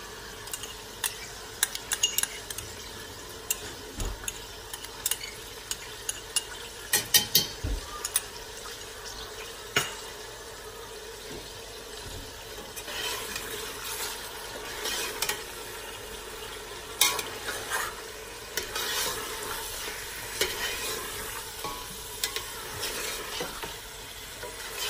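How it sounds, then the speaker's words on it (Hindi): Ginger garlic paste fries in a pan with a soft, continuous sizzle, while a spoon scrapes and clinks against the metal in irregular bursts of stirring over a quiet background. "अब हम साथ ही इसमें ऐड कर देंगे जिंजर गार्लिक का पेस्ट।"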